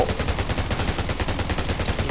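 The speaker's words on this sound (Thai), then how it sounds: "ขอยิงหน่อยแล้วกัน" Rapid automatic gunfire in the shooter video game Undawn: a loud, unbroken stream of evenly spaced shots at close range, with no talking.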